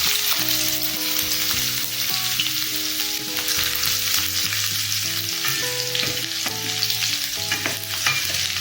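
Cumin seeds and sliced onions fry and sizzle in hot oil in a pan over medium heat, a steady crackling hiss with stirring scrapes, while music plays throughout.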